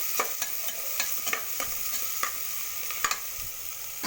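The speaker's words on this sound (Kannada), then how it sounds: "ಟೊಮಾಟೊ ಚೆನ್ನಾಗಿ ಬಾಡಿಸ್ಬೇಕು" Tomatoes sauté in a pan with a steady close sizzle, broken by regular scraping strokes of a spoon stirring them roughly every half second.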